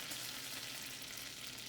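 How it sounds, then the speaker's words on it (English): Breadcrumbs frying in melted butter in a pan for mac and cheese give a steady, close sizzle with a constant crackling hiss and no talking. "You just drop in your breadcrumbs."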